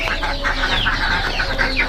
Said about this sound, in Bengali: এই পাশে মুরগিগুলো খুব চিড়াচিড়ি করতেছে